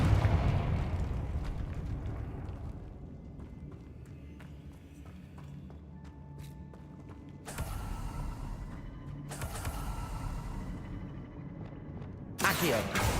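Confringo blasting spells explode in Hogwarts Legacy, with two loud broadband bursts a few seconds apart and a sharp third blast at the end, over a steady rumbling game soundscape with creaks and clatter.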